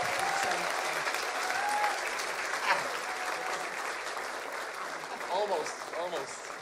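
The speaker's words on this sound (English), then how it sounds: "Give yourselves a round of applause." Loud, sustained applause from a crowd at the CampFest 2017 worship event, with voices and a few shouts rising through the clapping.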